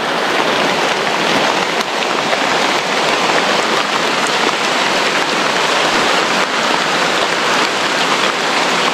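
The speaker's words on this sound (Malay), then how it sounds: "Licin guys, hujan." Steady, heavy rain pours down on forest in Sarikei in a dense, unbroken hiss, close and loud throughout with no voices.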